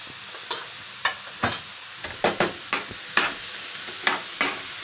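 Mixed vegetables with salt, red chilli powder and spices are stirred in a pan for a veg paratha filling, heard as a run of sharp, close scrapes and taps at irregular intervals over a light sizzle.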